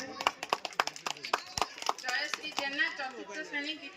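Applause for a prize winner at a village birthday celebration in Odisha, with a burst of sharp hand claps in the first half that settles into softer clapping under talk and crowd noise.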